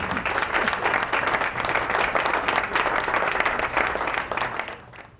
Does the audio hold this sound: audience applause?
yes